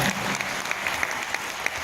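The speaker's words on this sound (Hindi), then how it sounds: "उनके लिए जोरदार तालियां" An audience at a company gathering applauds with steady, dense clapping at moderate volume, alone without speech.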